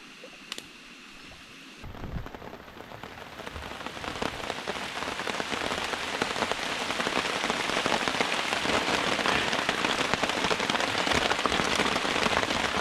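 Heavy rain pours down in a forest, a dense steady hiss that rises after a quiet start and stays loud and unbroken, with no voices.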